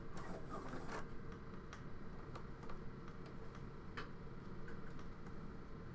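A sewing machine stitches fabric just above a bra underwire, giving a steady fast mechanical whir with a few sharper ticks, moderately close and fairly quiet.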